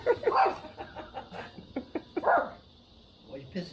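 A Yorkie dog gives a few short yips and whimpering barks close by, in bursts over about four seconds, with a person talking around the sounds.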